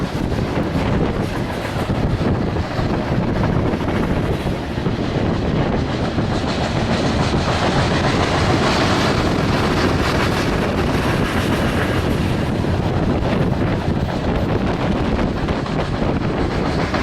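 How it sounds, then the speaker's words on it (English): An empty CSX coal train rolls past nearby with a loud, steady rumble and rhythmic clickety-clack of wagons, with wind buffeting the microphone throughout. "a CSX coal train came up"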